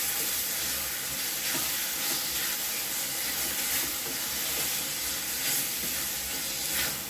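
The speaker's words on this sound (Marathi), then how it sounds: "गॅसची फ्लेम जरा बारीक करायची आणि चांगलं हलवून भरीत एकजीव करून घ्यायचं" Roasted eggplant bharit sizzling and hissing in a pan over a low gas flame, a continuous soft frying sound with faint stirring scrapes and no talk.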